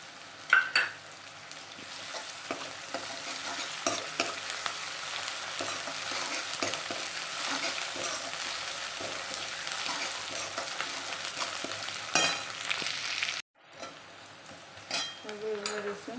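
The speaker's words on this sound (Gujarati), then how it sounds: "હવે ઉમેરીશું લીલું મરચું." Green chili sizzles and fries in hot oil while being stirred, a steady dense crackle with scraping stir strokes lasting throughout, briefly cutting out near the end before resuming more quietly.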